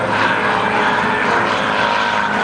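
A Super Decathlon aerobatic plane performs loops at an airshow in Waukesha, Wisconsin, its propeller engine a loud sustained roaring drone that holds steady across the moment, with no one speaking.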